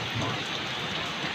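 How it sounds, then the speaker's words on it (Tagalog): Rain falls outside, a dense, steady hiss of drops hitting surfaces, continuous and even throughout with no voices. "Ngayon umuulan. Sa labas."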